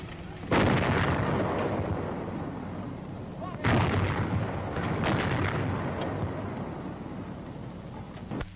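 A 1942 coast artillery battery fires at a plane: two heavy booming gun blasts a few seconds apart, each followed by a long rumbling roar, loud and close, with no clear speech.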